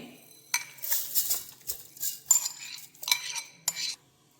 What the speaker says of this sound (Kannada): ಈಗ ತಗೊಂಡಂಥ ಮ್ಯಾಂಗೋ ಮತ್ತು ಸಕ್ಕರೆಯನ್ನು ಮಿಕ್ಸರ್ಗೆ ಟ್ರಾನ್ಸ್ಫರ್ ಮಾಡ್ತಾ ಇದ್ದೀನಿ.